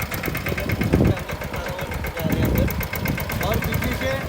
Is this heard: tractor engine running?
yes